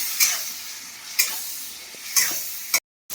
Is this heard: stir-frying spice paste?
yes